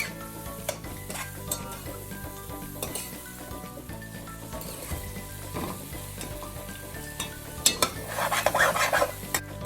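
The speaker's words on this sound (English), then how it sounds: "this little frying noise that it makes" Steady sizzling of shrimp curry frying in a pot, with occasional clinks and scrapes of a utensil; the sizzle swells louder near the end.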